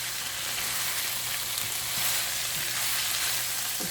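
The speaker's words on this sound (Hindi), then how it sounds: "मैं ये आलू भी ऐड कर दूँगी, ताकि आलूओं को भी हम कीमे के साथ अच्छी तरह से भून लें" Mutton keema and potatoes frying in a pan, a loud, steady close sizzle with occasional stirring scrapes and no talk.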